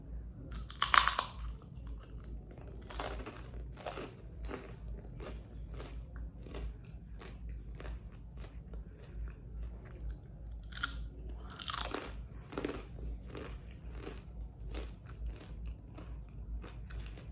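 Someone eats a crunchy snack: a few close, sharp bites and crunches, then scattered quieter chewing crackles over a low, steady background hum.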